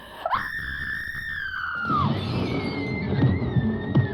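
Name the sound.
woman screaming in horror film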